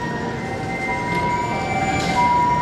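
Fire engine sirens wail steadily as various fire trucks, led by a command car with rescue, tank and ambulance vehicles, arrive at a 2018 Kitakyushu city fire brigade New Year rescue drill, loud and continuous over outdoor rumble.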